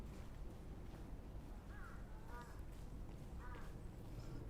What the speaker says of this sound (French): je t'écoute le corbeau